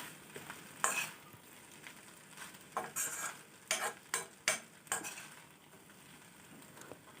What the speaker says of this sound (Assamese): অকণ সময়ত লৰাই থকাত গোটেইখিনি মিক্স হৈ গ'ল